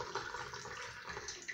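Cold and hot water poured into a glass, a continuous gurgling splash that runs steadily and fairly quietly throughout.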